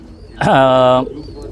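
A single close, loud coo from a high-flying tomprang racing pigeon, a rising then steady throaty note lasting about half a second. Quiet background sound surrounds it.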